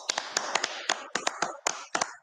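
A handful of sharp, uneven hand claps, close and dry, spaced irregularly with no voices over them.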